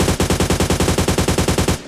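A sustained burst of rapid automatic gunfire in the mobile shooter PUBG Mobile Lite rattles off as a close, loud, even stream of shots, then cuts off abruptly.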